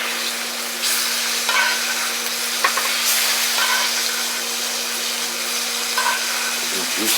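Picanha steak sears in a hot cast iron pan, a steady broadband sizzle running the whole time with a few brief spatters and scrapes, loud and close, plus a constant low hum underneath.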